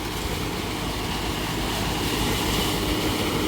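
A Deutz Fahr Agrolux 80 CRDI tractor runs a PTO mulcher through banana plants, a steady loud engine and machine drone with continuous broadband roar and no voices.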